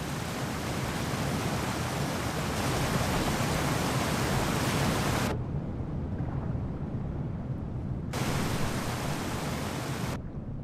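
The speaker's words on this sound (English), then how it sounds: "I like the waterfalls too, it's just because now they definitely make noise" Rushing waterfall in the survival video game The Isle, a steady dense roar of falling water that cuts out briefly midway and then resumes, with no voices over it.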